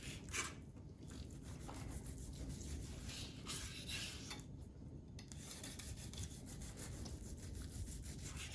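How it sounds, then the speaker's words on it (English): A knife saws back and forth through smoked roast beef, cutting thin slices in a continuous, soft rasping scrape with faint pauses between strokes. "I'm cutting thin slices like this."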